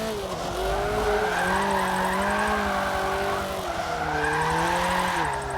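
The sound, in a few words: front-wheel drive car drifting at Lime Rock in racing video game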